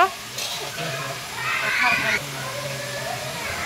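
Ten kilos of goat meat frying in a large pot for a village puja feast, with a steady sizzling hiss and a stirring scrape, surrounded by outdoor background noise.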